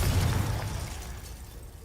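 A Confringo spell explodes in Hogwarts Legacy with a fiery, rumbling burst that fades away over about two seconds. The blast is near and sounds alone, with no voices over it.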